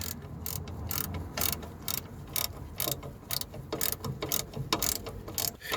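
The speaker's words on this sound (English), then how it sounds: "Now it's a question of just tightening up all these bolts." A ratchet wrench tightens bolts on a car during hose work, giving rapid repeated clicking strokes in a steady back-and-forth rhythm, close up and fairly loud, without talk.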